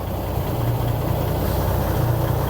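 A 5-ton military truck engine idling roughly after fuel system repair: a steady, close, low diesel rumble with slight uneven pulsing throughout, no voices.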